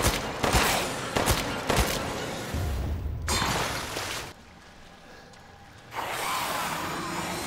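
Gunfire in the video game Resident Evil Village: a quick burst of loud, close shots early on, then a heavy crack and a lull before the game's noise returns.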